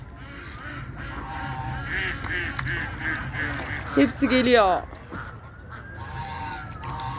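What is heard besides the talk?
geese honking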